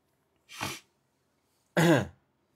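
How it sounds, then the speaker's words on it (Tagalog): Two sharp, close-up sniffs or snorts into a microphone, the second louder and longer, separated by silence. "Parang kada singhot ko, feeling ko tatagos sa eardrums nyo."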